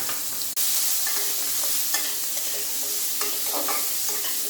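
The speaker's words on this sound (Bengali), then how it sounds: "ভালো করে নেড়ে নিলাম, ঢাকা দিয়ে দিলাম।" Prawns stirred in a pan with kohlrabi, radish, salt and turmeric, giving a steady frying hiss broken by scattered scraping strokes of the spoon, with one short dropout near the start and no talking.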